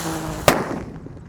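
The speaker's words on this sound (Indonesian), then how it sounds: "Lanjut di sini ada mercon Teratetor." One sharp Cobra firecracker bang goes off close by, a loud abrupt crack that fades quickly into a brief rumbling tail.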